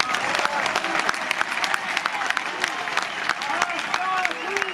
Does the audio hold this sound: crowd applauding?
yes